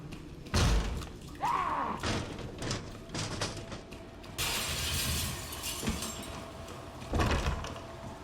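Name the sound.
Resident Evil 2 police station ambience, video game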